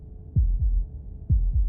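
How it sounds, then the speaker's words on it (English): Two heartbeats from the game Slay The Princess, each a close, deep double thump, lub-dub, sound clearly against near silence with a steady pause between them. "That was the sound of a heartbeat,"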